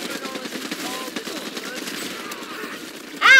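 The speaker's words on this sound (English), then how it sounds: "Who keeps shooting me?" Rapid automatic gunfire in the zombie shooter Back 4 Blood, a steady rattling stream of shots throughout, moderately loud and slightly distant, ending with a brighter sharp burst.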